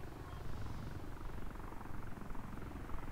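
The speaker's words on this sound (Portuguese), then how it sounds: "Avião." Steady low engine drone of an aircraft passing in the military game Arma 2, a constant rumbling hum held at moderate distance for a few seconds with no talk over it.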